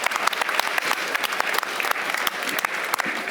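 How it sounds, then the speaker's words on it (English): A conference audience at DLD 23 applauds, with moderate clapping whose individual sharp claps stand out over a steady crowd patter. "Let's give a round of applause."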